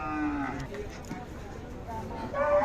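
Khillar cattle mooing at a busy cattle market in Sangola, with several long tonal lowing calls over steady crowd murmur and distant voices.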